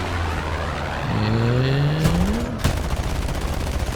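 Air-combat video game in which a fighter plane fires its guns, heard as a rapid burst of gunfire over a steady engine drone and a sweeping whine, with the clatter carrying on after the burst.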